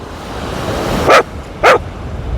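A dog barks twice near a fishing spot by a pit, two sharp, loud, close barks about half a second apart over steady outdoor background noise.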